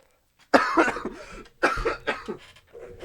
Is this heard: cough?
yes